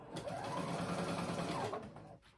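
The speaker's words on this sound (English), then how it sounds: "I'm just doing a long straight stitch on my sewing machine to baste" A sewing machine runs a long straight basting stitch in one quick continuous burst of rapid mechanical stitching, close by, then stops.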